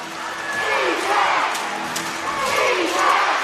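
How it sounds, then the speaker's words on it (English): Loud basketball arena crowd at a Melbourne United versus South East Melbourne Phoenix NBL pre-season game, roaring and cheering in swelling waves that rise, dip and surge again. "And the crowd is up and about now with defense chance"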